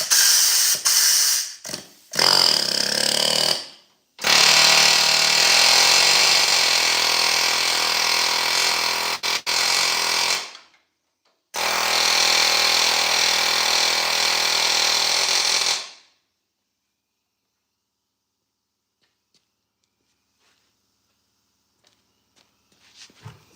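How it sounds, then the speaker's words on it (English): Air compressor running loudly in a shop during work on a 1970 Ford F100 cab removal, a steady broadband roar in long bursts with short gaps, cutting off abruptly and leaving near silence with a few faint knocks. "Yeah, the air compressor's on."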